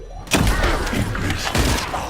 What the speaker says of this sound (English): Time to try out Lord Corell's gift to match. This precision bomb.